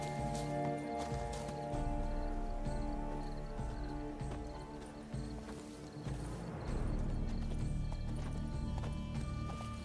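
Horse hooves clip-clop steadily alongside a whinny in the video game The Witcher 3, backed by a continuous bed of game music and ambience, moderately loud throughout.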